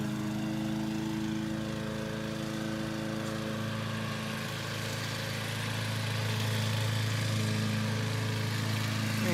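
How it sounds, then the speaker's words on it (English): A mulching lawn mower engine drones continuously and loudly up close, its steady roar shifting slightly in pitch as it cuts grass. "Now this is a mulching lawnmower"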